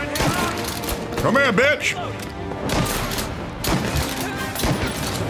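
Shotgun blasts in Mafia: Definitive Edition, several loud, sharp booms at close range over a busy firefight din, with a voice shouting through the gunfire.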